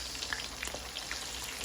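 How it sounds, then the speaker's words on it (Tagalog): Beef for bistek frying in a pan with its marinade sauce just added, a faint, steady crackling sizzle with scattered small pops, heard alone. "pwede nyo nang ilagay ang inyong pinag-marinate na sauce"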